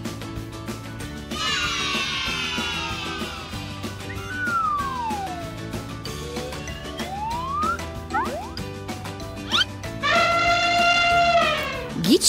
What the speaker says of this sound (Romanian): E un elefant!